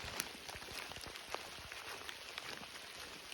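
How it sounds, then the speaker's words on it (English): Steady rain falling on a hiking trail in Little Buffalo State Park, a faint continuous patter with scattered sharper drops pattering close by, soft and even throughout. "it is still raining"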